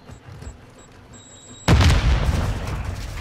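Semtex grenade detonates in Warzone 2: a quiet stretch of faint game ambience and a high electronic tone, then a sudden loud boom followed by a rumbling, crackling aftermath that slowly settles.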